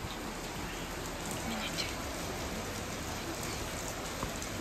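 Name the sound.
rain falling on a balcony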